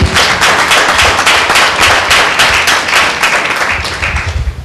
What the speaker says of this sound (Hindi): यह जोरदार ताली देंगे भाई।